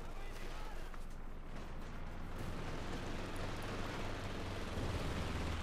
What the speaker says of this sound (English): So much artillery though